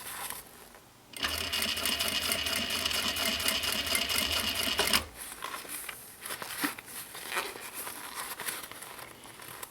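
Sewing machine stitching a recycled denim pouch, a close, loud run of rapid needle strokes lasting several seconds before stopping, followed by softer handling sounds.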